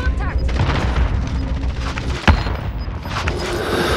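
A frag grenade goes off in Call of Duty Warzone: one short, sharp blast punches through a steady bed of busy gameplay noise, with no other explosions close by.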